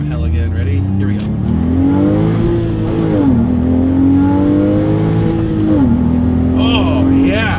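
A Ferrari sports car engine revs loud and close, its tone climbing and falling through repeated throttle blips in a steady, sustained roar with no speech over it.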